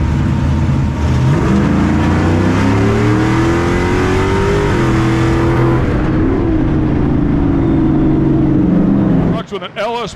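A Stadium Super Truck with an LS V8 of about 650 horsepower roars loud and steady at high revs, its pitch climbing and dipping during racing, then cutting off sharply near the end, with a voice talking over it.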